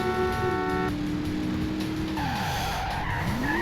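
A civilian Apex car, modeled on the Chicago police car, in Driver: San Francisco screeches its tires in a loud, sustained skid over a revving engine whose pitch sweeps down and back up.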